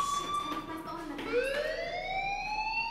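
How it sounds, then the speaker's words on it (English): A fire alarm rings in Life Is Strange, a loud electronic tone holding steady, then a second rising wail sweeps upward and sustains, with faint background noise beneath. "Hey, do you hear that fire alarm?"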